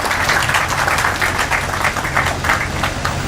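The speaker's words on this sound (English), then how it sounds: "I thought that was good news and is deserving of a round of applause." An audience applauding at a gas pipeline commissioning ceremony, steady dense clapping from many hands throughout, loud and continuous with no talk.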